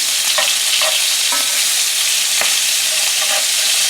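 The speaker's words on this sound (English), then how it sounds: "That's a beautiful sear right there." Lamb chops searing in a hot pan, a loud, dense, unbroken sizzle up close, with a few faint knocks of a utensil against the pan and no talking.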